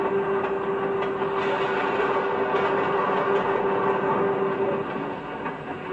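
A freight train runs along the rails in a steady, loud rumble with a sustained tonal hum and faint clickety-clack, continuing unbroken without any talk.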